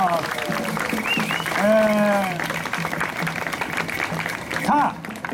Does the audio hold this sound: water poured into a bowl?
no